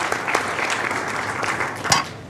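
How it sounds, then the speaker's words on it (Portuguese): A conference audience applauds the panelists of an energy debate panel, with dense, steady clapping filling the room for a couple of seconds. "uma salva de palmas a eles"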